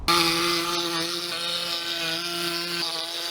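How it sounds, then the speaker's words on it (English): A jigsaw cuts through a plastic 5-gallon bucket lid. Its motor gives a steady, buzzing whine with a rapid reciprocating rasp, close and continuous, and the pitch drops slightly near the end. "now we'll go ahead and cut it out. It's easiest to use a jigsaw"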